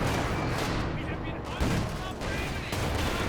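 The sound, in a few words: machine gun fire in video game Company of Heroes 2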